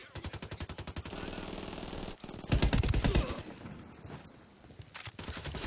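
Gunfire in the video game Ghost Recon Wildlands during a firefight, with rapid automatic bursts that swell loudly in the middle and then drop back to scattered shots.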